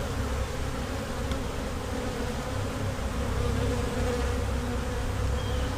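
Honey bees clustered in hive boxes give a dense, continuous buzzing drone, loud and close throughout with no talking.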